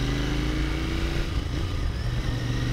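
Royal Enfield 650 Interceptor twin-cylinder motorcycle engine running steadily up close, a continuous loud low throb with a faint gearbox whine above it, no voices.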